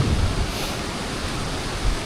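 A waterfall in the Azores Islands roars as a steady, broad rush of falling water with no pauses.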